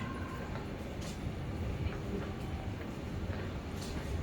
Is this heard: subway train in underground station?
yes